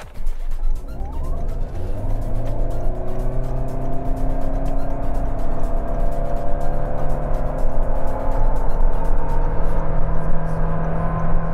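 A Toyota Yaris Cross hybrid accelerating hard from standstill to 100 km/h, its engine note rising steadily and continuously for about twelve seconds, loud and close, with no talking.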